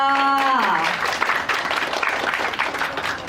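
Guests at a Thai engagement ceremony burst into applause as a sustained musical tone fades out, a dense wash of clapping filling the room.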